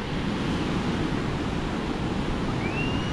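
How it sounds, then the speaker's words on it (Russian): Steady, loud roar of stormy Black Sea surf washing ashore at Anapa, broadband and continuous with no pauses, like waves breaking close by. "Вон она разлилась, волны еще приблизились."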